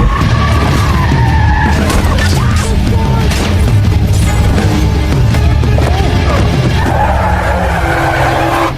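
A car brakes hard and its tires skid and squeal loudly on the road, with a thud of impact as a motorcyclist is thrown against it, all close and dense.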